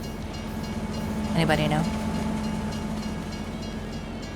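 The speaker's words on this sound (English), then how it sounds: "I shall wait for this train, though." A train passes in Farming Simulator 25, a steady rolling rumble with a brief horn blast partway through, while a player speaks over it.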